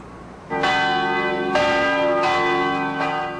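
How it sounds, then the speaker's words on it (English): Church bells ringing at noon, recorded in 1991, with several loud strikes that overlap into a rich, sustained ringing and no voices. "Bells ring in many churches in Los Angeles, in New York."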